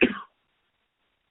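A single short, close cough, loud and abrupt, breaks the quiet and is immediately followed by about a second of silence.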